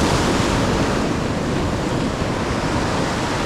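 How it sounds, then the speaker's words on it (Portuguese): Ocean waves break on a rocky shore at a fishing spot, a loud continuous wash of surf and spray close to the microphone, with wind buffeting throughout and no speech. "Estou aqui no mau sítio para levar com as ondas."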